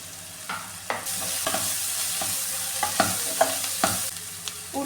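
Onions frying with curry leaves and turmeric as the base for a coconut chicken curry, steady sizzling punctuated by repeated scraping stirs of a spoon against the pan, no voices.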